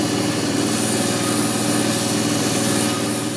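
A grinder bevels the face of a knife made from a saw blade, giving a steady, loud, continuous abrasive whine and hum that holds at an even level without pause.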